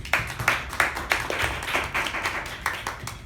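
A crowd at a Toastmasters meeting breaks into applause, a brisk run of distinct, fairly close hand claps at an uneven rhythm, lasting a few seconds without any talking.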